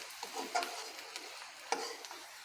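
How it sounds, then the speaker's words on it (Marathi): Chopped onion stirred in hot oil while frying for a sprouted moth bean curry, with soft scraping strokes over a gentle sizzle and two sharper clinks against the pan. "कांदासुद्धा आपला सारखा असा तेलामध्ये हलवत राहायचा"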